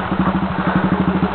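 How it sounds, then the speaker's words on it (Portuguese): A motorcycle chugs close by while crossing a small stream on a muddy trail, its engine throbbing in a steady, even pulse through the whole brief moment. "Agora ele vem chegando aí com a moto dele."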